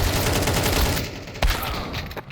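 Rapid XM rifle gunfire in a tactical first-person shooter match, a dense run of close shots followed by a sharper single crack, with no talk.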